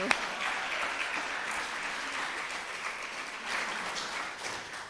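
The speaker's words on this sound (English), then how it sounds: "let's give her another round of applause" An audience at a memorial lecture applauds a performer after an entertainment segment, steady dense clapping that holds for several seconds at even strength.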